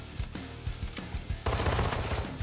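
Rapid machine gun fire in Warzone 2 DMZ from a weapon skin firing red tracers, first in short spaced bursts, then one dense sustained loud burst, close up and without voices.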